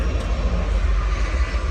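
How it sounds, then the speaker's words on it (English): A low, steady rumble of a train rolling past nearby in Washington, a continuous heavy drone with no voices. "yep, there's that train"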